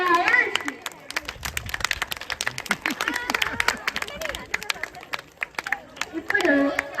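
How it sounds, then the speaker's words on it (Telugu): An audience claps and cheers for a small child performer at a Vinayaka Chaviti celebration, in uneven bursts under a speaker's amplified voice, with the applause swelling again near the end. "ఒక్కసారి గట్టిగా చప్పట్లు మన చిట్టి కన్నయ్య అయాన్స్కి."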